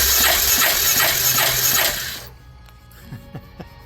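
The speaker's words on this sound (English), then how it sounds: "here's where the rebreather hose comes in from the PCV, way down over here somewhere. Look how much blow by we're getting just off crank." Blow-by hissing from a used UTV engine's PCV breather hose while cranking, a loud, rushing hiss with rhythmic pulses for about two seconds, then cutting to faint mechanical clicks and taps.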